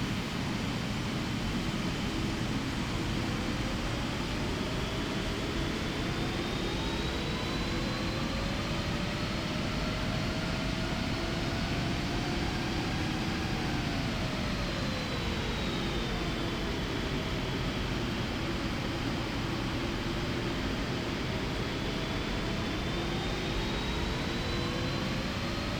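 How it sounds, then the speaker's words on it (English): The GE90 jet engine of a PMDG 777 in FS2020 throttles up, its steady, loud broadband roar joined by whining tones that climb and shift in pitch as the thrust builds, with no talking. "We'll take a listen to the GE90 throttling up."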